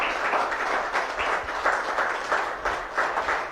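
Church congregation giving a round of applause during a service. Steady, dense clapping from many hands keeps a pulsing rhythm throughout, with no voices on top.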